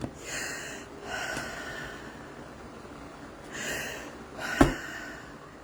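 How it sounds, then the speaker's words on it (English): Slow, deep breaths in a breathing exercise, four soft airy rushes spaced a few seconds apart, close and quiet, the last one sharper like a snort. "Okay? The real sound of it is just breathing."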